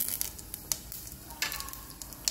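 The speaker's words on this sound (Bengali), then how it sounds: "এটা পরে তেলের উপর ঢেলে নিলাম।" Whole spices, cardamom, cumin seeds, bay leaf, cloves and a red chili, poured into hot oil, giving a light, crackling sizzle with scattered sharp pops, close and fairly quiet.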